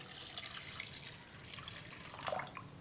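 About two and a half to three cups of water pour into a pot set on a stove, a faint, soft trickling and splashing close by with a few small drips.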